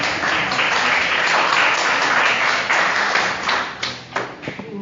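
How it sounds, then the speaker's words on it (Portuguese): A church congregation claps hands loudly and steadily in worship, a dense sustained wave of applause filling the room that thins into a few scattered claps at the end. "adore a Deus com as palmas bem fortes"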